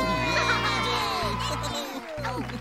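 A lively crowd cheers and shouts loudly and continuously, children's voices mixed into the roar, with music playing underneath throughout.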